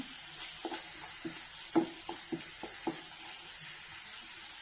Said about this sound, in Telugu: ఆయిల్లోనే ఈ మిశ్రమం అంతా వేగాలండి దీంట్లో ఉండే ఆయిల్ పైకి వచ్చే వరకు దీన్ని బాగా వేయించుకోవాలి